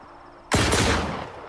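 A sudden loud burst of rapid gunfire from a .308 cavalry rifle in STALKER 2 erupts after a brief quiet, sustained and harsh like an automatic weapon.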